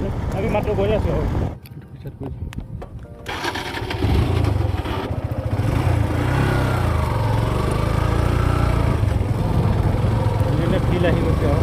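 A motorcycle engine, started up and then running while ridden, gives a close, rough droning rumble after a short gap of handling noise, with people talking over it.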